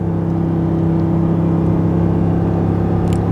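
A Ford F150 with the 5.0L Coyote V8 tows a heavy trailer up a 6% grade in third gear. The engine gives a loud, steady, droning hum inside the cab, with no voices.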